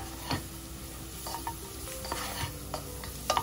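Finely chopped carrots frying lightly in a pan for Turkish lentil soup: a soft, continuous sizzle with occasional clinks and scrapes of stirring, fairly quiet and close, with no speech.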